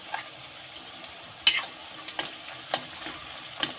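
Curry leaves and garlic crackle in hot oil for kanda poha, a soft close sizzle broken by a few sharp spitting pops and light scrapes of a stirring spoon.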